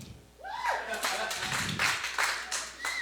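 A comedy-club crowd claps in scattered bursts, fairly close and moderate in loudness, with whoops and voices mixed among the claps.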